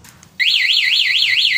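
One-way alarm newly installed on an XRM 125 Fi motorcycle bursts on after a short quiet moment, a loud, close electronic siren warbling rapidly up and down in a steady repeating sweep.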